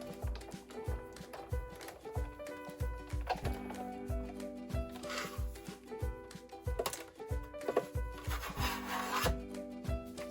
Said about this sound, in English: I'm going to use my Sizzix Big Shot.